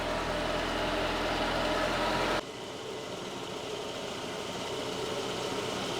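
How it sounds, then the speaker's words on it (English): A Ford Escort 1.6 16V engine runs steadily at idle, a continuous broadband hum and whir that drops to a quieter, lower drone partway through and carries on evenly to the end. "But now the engine is running"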